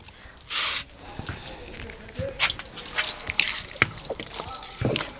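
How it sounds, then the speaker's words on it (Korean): A potted fine-leaf alpine phlox planted in a wildflower soil mix is watered, with short bursts of spraying water and faint trickles and drips draining through the soil amid light handling noise. "물 한번 줘볼게요"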